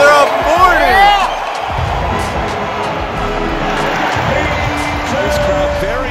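A basketball playoff arena crowd cheers a round 1 victory, a loud sustained roar and whoops from a packed venue, with people talking over it nearby.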